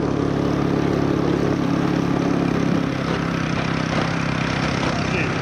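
A scooter engine idles on Cat Ba island in Vietnam, a steady, close, fairly loud low hum with a slight dip in level partway through.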